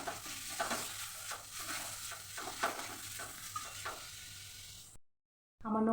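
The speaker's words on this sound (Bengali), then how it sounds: "এবার সব নিয়ে মিশিয়ে দেবো।" Chili powder, turmeric and salt stirred into a karela (bitter gourd) and potato curry in a pan: repeated spoon scrapes over a steady oily sizzle, close and fairly loud, ending in a sudden brief silence before a final burst.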